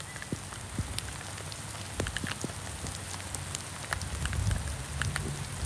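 Rain falling on a surface during a walk outdoors, a dense steady patter with scattered sharper drop ticks over a low rumble, moderately near and without talk.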